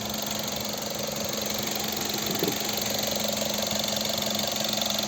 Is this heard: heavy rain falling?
no